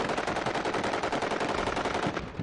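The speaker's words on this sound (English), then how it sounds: "The Brits took the frontline position. They almost immediately are on this parapet firing down into the Taliban and Al-Qaeda." Soldiers on a parapet fire guns down at Taliban and Al-Qaeda positions, a dense, continuous rattle of rapid automatic fire, loud and sustained with no talk.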